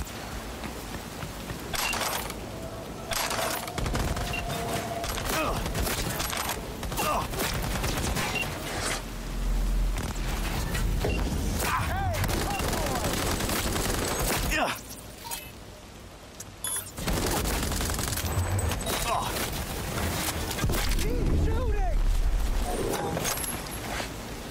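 Gunfire in the video game Cyberpunk 2077: a dense, sustained barrage of shots over a loud game soundscape, briefly thinning near the middle and then resuming at full intensity.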